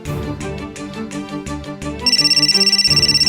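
A telephone ringtone for an incoming call plays loud and close: a melodic tone pattern followed by a rapid pulsing electronic ring, heard alone without talk.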